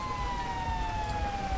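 An EMS ambulance siren in the GTA V LSPDFR police mod, arriving on scene, holds a steady wailing tone that glides slowly downward. It plays continuously at moderate loudness over a rumbling background with no talk.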